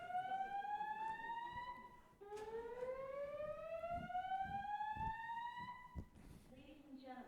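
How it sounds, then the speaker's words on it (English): A building alarm wails in repeated rising tones inside a conference venue, a steady loud siren that pauses briefly before sweeping up again, with faint voices beneath it. "An alarm has been activated."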